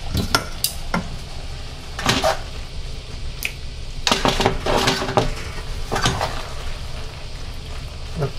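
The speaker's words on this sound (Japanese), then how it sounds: "パスタを投入します。" Penne pasta is tipped into a pan and stirred for a gratin, making scattered metallic clinks and scrapes of utensil against cookware, close and fairly loud over a steady low background.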